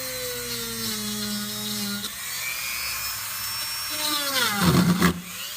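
Power drill boring a hole into a wooden peg board, motor whine falling as the bit bites, pausing, then spinning up again with a harsher grinding burst near the end.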